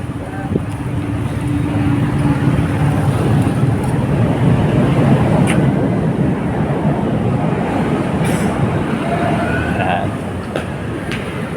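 An LRT light rail train rumbles past nearby in Manila's Carriedo area with a steady rolling roar and faint squeals, amid busy street noise and people talking in the background.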